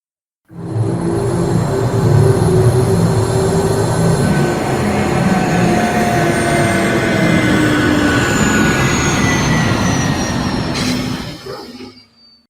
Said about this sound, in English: The noise and downdraft from a hovering shuttlecraft wake the campers.